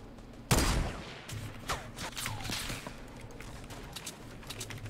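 Gunfire in the Fortnite video game: a sharp loud shot opens, then a scatter of quicker, fainter shots and impacts follow over a low background hum.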